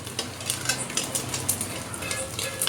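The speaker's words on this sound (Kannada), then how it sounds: "ಮ್ಯಾಲೆ ಮುಚ್ಚಳ ಮುಚ್ಕೊಂಡು ಫ್ರೈ ಮಾಡಬೇಕು" Sabudana frying in oil in a covered pan for chivda, a continuous bright sizzle with rhythmic stirring scrapes and soft pops, close and moderately loud.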